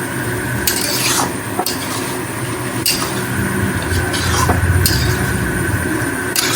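Chilli chicken stir-fried in a pan with a little water added: steady loud sizzling runs throughout, broken by scraping and clinking of a utensil against the pan at irregular moments, with no talking.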